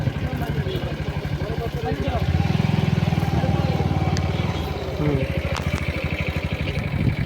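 A motorcycle engine runs nearby with a steady throbbing putter that swells briefly, as if revving, while someone talks over it on a flooded road.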